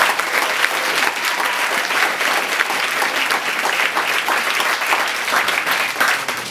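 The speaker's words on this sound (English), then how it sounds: "Give yourselves a round of applause for being here." A graduation audience applauds itself, loud dense clapping from a large crowd that holds steady and even from start to finish.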